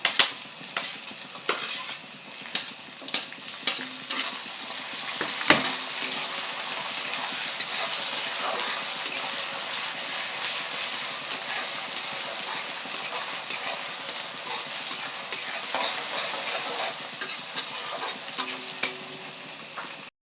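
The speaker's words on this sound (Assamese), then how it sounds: "এয়া দেখিছে পিঁয়াজখিনি অলপ ৰঙচুৱা হৈ গ'ল, আৰু এতিয়া মই আদা নহৰু দি দিছোঁ।" Browned onions frying in a pan with ginger and garlic, a steady bright sizzle throughout with scraping and clinks of a spoon stirring, no voices.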